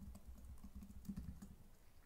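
Quiet, rapid typing on a computer keyboard, with a steady run of soft key clicks heard close up and alone.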